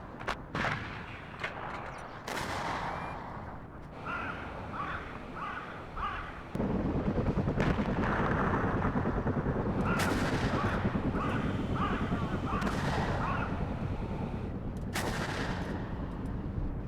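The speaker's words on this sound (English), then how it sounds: "you guys are seeing artillery coming in here from afar from our own M109A2s" Distant artillery fire from M109A2 self-propelled guns in the Cold War strategy game WARNO: repeated booming impacts and blasts in a steady roar of battle noise, loud throughout, with no talk.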